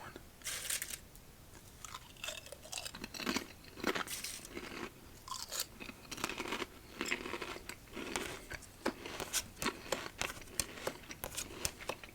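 Close, crisp crunching of Nashville hot fried chicken flavored Lay's potato chips, with repeated bites and chewing over a quiet background and no talk.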